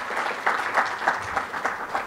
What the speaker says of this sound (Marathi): जोरदार टाळ्या नक्की झाल्या पाहिजेत.